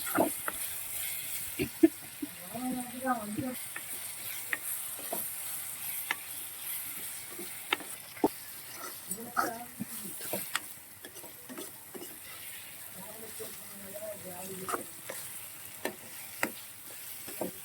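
Dried shark fish sizzles steadily in a pan while being stirred, with scattered clicks and scrapes of the spatula and occasional faint speech nearby.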